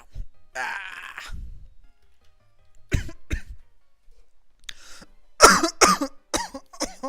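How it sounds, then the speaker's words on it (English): A person coughing in several harsh bursts with throat clearing and strained groans between, close and fairly loud, separated by short silences. "That was such a random coughing fit."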